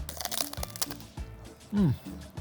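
A close, loud bite into crunchy chicharron made from skin-on pork belly gives a series of sharp crackling crunches, followed by chewing, with a brief vocal sound in the middle.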